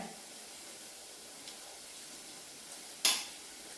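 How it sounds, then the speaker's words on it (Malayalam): Fish curry simmers in a pan with a steady, soft, faint bubbling hiss, broken by one brief louder sizzle or clink near the end, and no talking. "ഇതാ കറി തിളച്ചുകൊണ്ടിരിക്കുന്നു"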